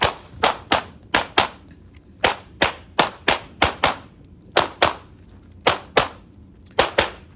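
Sharp gunshots ring out from a practical shooting match stage, with the shooter firing a borrowed handgun while moving. Loud, close reports come in quick pairs and short bursts, about sixteen shots in all, with brief gaps between groups.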